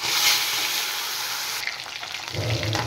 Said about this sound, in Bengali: এবার আমি মাছ ভেজে নেব